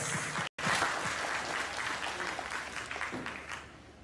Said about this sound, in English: let's give another big round of applause for all of our speakers